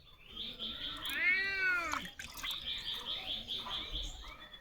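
A cat meows nearby outdoors at a rural home while fish are being scaled, giving one drawn-out, wavering cry followed by softer, shorter mews against a quiet background.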